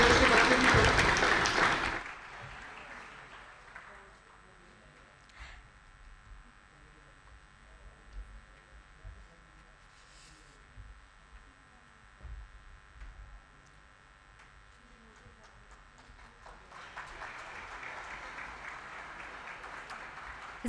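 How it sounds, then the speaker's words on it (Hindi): Audience applause at a healthcare excellence award ceremony honouring Uttarakhand's chief minister, loud and dense for the first two seconds, then fading to a quiet room before a second burst of clapping swells near the end. "कृपया जोरदार तालियों से"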